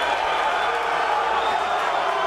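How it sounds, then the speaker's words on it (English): A crowd at a chessboxing bout roars in a sustained, dense wall of cheering after a punch lands, with a voice talking over it throughout. "And the crowd reacts"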